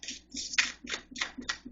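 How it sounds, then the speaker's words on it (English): Oracle cards being shuffled by hand, a quick run of soft papery riffles and taps repeating about every quarter second, close and fairly quiet with no voice. "One more shuffle."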